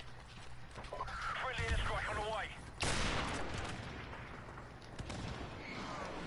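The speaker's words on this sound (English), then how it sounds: "I killed someone with a pistol and I missed one shot" Pistol shots in a video game, a sharp report near the start and a loud broadband blast around the three-second mark, set against game ambience and voices talking.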